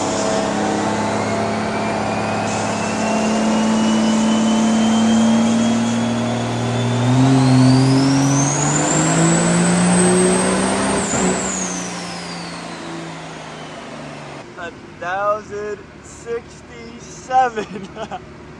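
A Cummins diesel truck engine revs hard on a dyno, its loud rising roar climbing steadily before cutting off sharply, followed by short bursts of voices talking.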